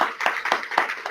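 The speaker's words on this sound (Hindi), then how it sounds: "जोरदार तालियां बजाएंगे" A church congregation in Pakistan claps loudly in a steady unison rhythm, with sharp hand claps landing about four times a second and filling the room.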